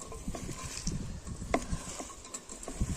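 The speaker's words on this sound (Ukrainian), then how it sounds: "перемішуємо понатискаємо, щоб вона більше соку пустила" Salted onions for goat meat shashlik being stirred and pressed by hand in a bowl, quiet moist squelching and patting with a few crisp crunches, close and soft.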